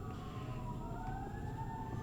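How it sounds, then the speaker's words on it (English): A fire truck siren wails steadily throughout, its rising tone sweeping under a constant low rumble of traffic, moderately distant and alone with no voices. "That's fire truck."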